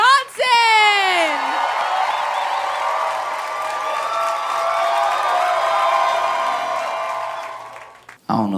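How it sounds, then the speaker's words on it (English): A stand-up comedy crowd cheers, whoops and claps for comedian Josh Johnson. A brief shout opens a loud, sustained roar that fills the room for several seconds before dropping away. "Y'all start clapping right now. Give it up for Josh Johnson."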